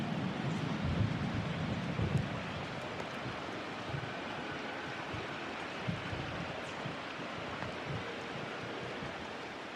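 Heavy rain pours steadily over a baseball field in a video game, a dense hissing wash with low rumbling thunder swelling near the start and fading into a continuous downpour, with no talk.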